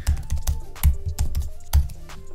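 Computer keyboard typing, with quick irregular key clicks and a few heavier strokes that sound like the space bar or enter key, close and clear with no voice over them.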